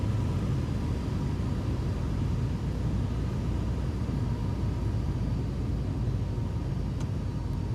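A Piper Arrow III single-engine light aircraft in Microsoft Flight Simulator, landing with the throttle eased back. A steady, even cabin drone of engine and rushing air holds constant throughout, alone with no voices.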